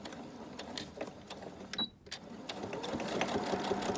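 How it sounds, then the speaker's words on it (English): A sewing machine stitches down a paper envelope in rapid, steady bursts of needle chatter, pausing briefly midway before resuming a continuous close-up run. "I'm just going to again go in here, stitching that envelope down"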